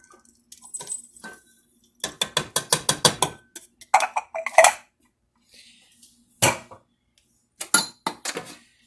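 Ingredients for Christmas cookies are tipped into a mixing bowl, giving close, rapid rattling and clattering in short bursts with sharper scrapes between and quiet gaps, no voice.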